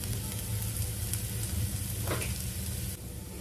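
Beans and vegetables cook in a salted pan with a continuous close sizzle, a dense even frying hiss and a brief stir partway through.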